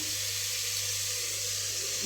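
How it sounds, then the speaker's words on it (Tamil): Water pours steadily into a clay cooking pot of greens, a dense, close, continuous rush lasting the whole moment with no voices over it. "தண்ணி அளவாக ஊற்றினா போதும்"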